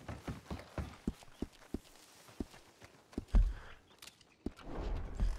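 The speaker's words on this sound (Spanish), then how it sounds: "vienes con el caballo por aquí a toda velocidad" Horse hooves clip-clopping at speed in the video game RedM, a Red Dead roleplay setting, with distinct rhythmic hoofbeats close by and a few heavier thuds near the end.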